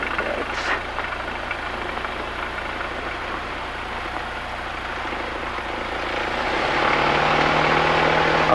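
Cessna 172 light aircraft engine idling on the runway at night in Panglao, Bohol, a steady close drone that swells louder toward the end.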